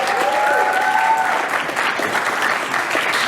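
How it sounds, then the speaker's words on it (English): Conference audience applauds for a speaker, a dense sustained clatter of many hands clapping throughout, with a brief tonal ringing early on and faint voices underneath. "So let's give another round of applause for Susie Howell."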